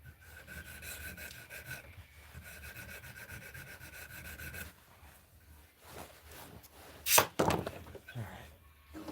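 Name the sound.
sanding a spine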